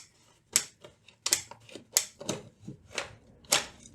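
Big scissors snip through vinyl house siding in a series of sharp, crisp cuts, about six distinct snips spaced irregularly, close and fairly quiet with no talking.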